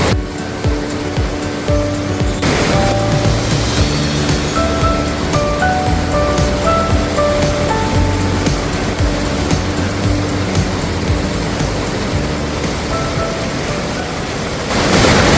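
Water rushes through a full levada irrigation channel on Madeira, a loud, steady roar of flowing water close by, broadband and unbroken throughout.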